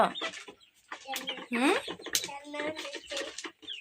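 Chickens on a farm cluck and squawk close by while being fed grain, their calls scattered and overlapping, with a person speaking throughout.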